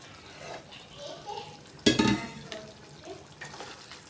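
Mutton curry gravy stirred in a pot after coriander and mint go in, a soft scraping swirl with one sharper clatter of the spoon against the pot midway, close and fairly quiet.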